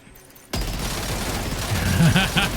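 Heavy recoiling weapon fire in the video game Death Stranding 2 erupts abruptly after a quiet moment, then holds as a loud, dense rattle of shots with a voice speaking over it toward the end.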